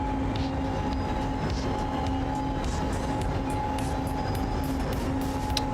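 Passenger train running on rails in the SimRail railway simulator, a steady rolling rumble with a constant electric whine and faint clicks of wheels over rail joints, heard alone without voices.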